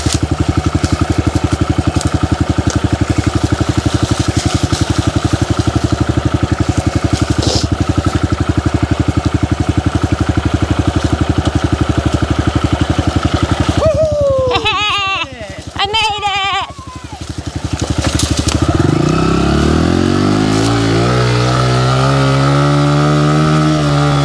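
Dirt bike engine in spring, running loud and steady with a buzzy idle, then dipping and blipping through several sharp revs before settling into a rising, revving drone.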